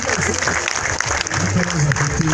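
Wedding guests applaud in a steady wash of clapping while a voice talks over it, lasting a couple of seconds.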